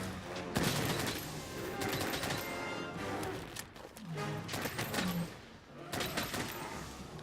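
Video game gunfire from Monster Hunter World comes in dense, rapid bursts separated by short pauses, fairly quiet and mixed with game ambience.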